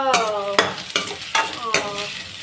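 Curry leaves and onions fry in a pan for egg curry. Four ringing metallic spatula strikes come at a steady pace over a soft sizzle.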